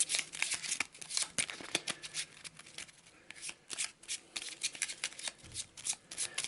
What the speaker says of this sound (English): Let's give it a quick shuffle.